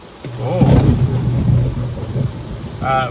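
A thunderstorm rolls close by, a deep rumble of thunder swelling and fading over steady rain.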